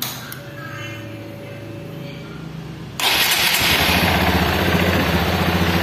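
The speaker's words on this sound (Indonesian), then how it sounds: "ini sepeda motornya sudah hidup" A Honda CRF 150L motorcycle cranks and catches about halfway through, then settles into a steady, close idle with a loud, even putter, following a quieter stretch of faint background noise.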